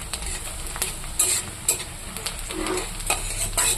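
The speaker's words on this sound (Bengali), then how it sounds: "পেঁয়াজটা একটু লাল লাল করে ভাজবো" Onions frying in oil with bay leaf, a steady close sizzle broken by a few sharp scrapes and clinks of a spatula stirring the pan, with no talk.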